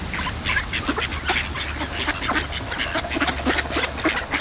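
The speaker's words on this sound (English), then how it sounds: "All these ducks." Several ducks quack nearby in a busy, overlapping chorus, steady and fairly close throughout.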